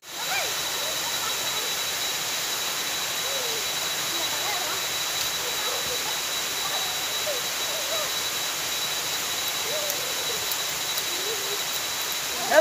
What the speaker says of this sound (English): We are now in waterfalls, Lampi.